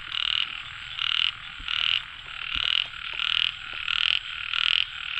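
Frogs croak in a steady chorus after heavy rain, pulsing in regular loud bursts about every three quarters of a second, close and continuous with no talking.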